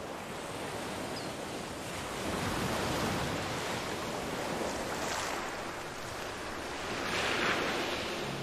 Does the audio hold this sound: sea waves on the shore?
yes